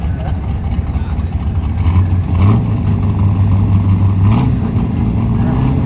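HSV race car at a Leyburn 2019 sprint event accelerating away from the line and laying down rubber, a loud close engine rising in pitch through gear changes with a steady roaring exhaust and no talk over it.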